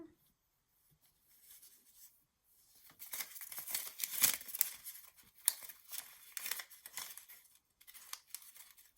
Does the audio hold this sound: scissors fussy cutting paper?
yes